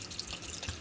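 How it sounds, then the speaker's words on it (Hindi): Water pours steadily into a metal pressure cooker holding chopped bathua greens, a continuous splashing trickle close to the microphone. "हमने इसमें एक गिलास डाला पानी"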